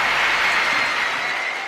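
Crowd applause for a figure skater at a competition, a steady broadband wash of clapping that holds level and eases off slightly toward the end, with no talk over it.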